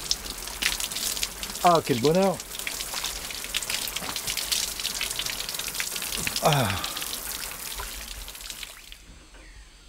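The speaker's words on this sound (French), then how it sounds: "c'est l'heure de la douche" A shower runs as a steady hiss of spraying water that continues through the whole stretch and cuts off just before the end. Someone speaks briefly over it twice.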